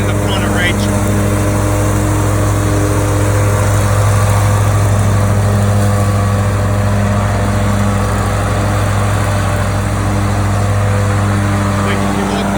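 A riding lawn mower with its gas tank mounted at the front runs close by, holding a steady, unbroken engine drone for the whole stretch, with no pauses or changes in pitch.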